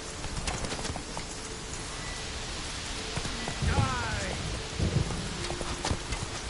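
Hooves of a horse clatter in rhythmic clip-clop through rain in the Witcher 3 video game, with soft rain texture and a few louder thuds throughout, moderately close.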